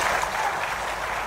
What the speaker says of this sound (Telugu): మీరు కూడా గట్టిగా చప్పట్లు కొట్టి ఆశీర్వదించండి